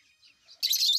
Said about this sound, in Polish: Bardzo ładna papuga.